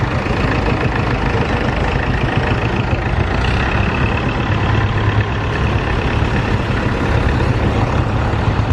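Steady diesel engine of a Ferguson tractor chugging at a constant idle-like rumble, loud and close, running throughout without any voices.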